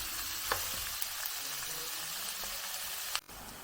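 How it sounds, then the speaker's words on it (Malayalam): Onions sizzle steadily in a pan over the heat with a dense, close hiss and occasional small pops or stirring clicks, no voices. "നമുക്കൊന്ന് ചെറുതായിട്ടൊന്ന് ഫ്രൈ ചെയ്തെടുക്കാം അതിന്"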